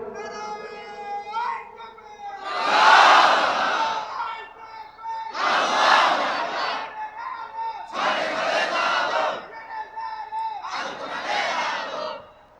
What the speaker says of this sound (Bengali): এবার একজন যুবক লোক তাকবীর দেন তো দেখি